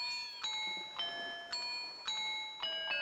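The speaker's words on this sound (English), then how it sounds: "After he hears these Christmas bells." Christmas bells from the video game Majora's Mask Randomizer chime in a steady series of bright, ringing strikes, about one every half second, each overlapping the last one's fading ring.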